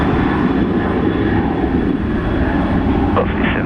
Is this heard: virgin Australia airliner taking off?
yes